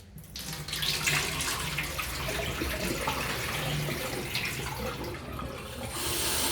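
Mixed lentils being rinsed for dhal under a running kitchen tap, a steady close splash and rush of water filling and swirling in a sink that continues for several seconds with no talking.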